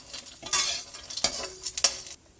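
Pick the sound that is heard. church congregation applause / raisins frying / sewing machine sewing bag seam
raisins frying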